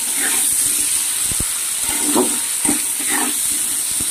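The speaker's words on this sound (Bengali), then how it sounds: "সবজিটাকে ভেজে নিচ্ছি" Vegetables fry in a pan with a constant close sizzling hiss, broken by scattered soft pops and ticks.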